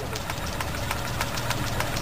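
A stepper generator engine labours and knocks under the extra load of a radio amplifier, a steady rough mechanical running sound with a rhythmic clatter and broad hiss, close and continuous.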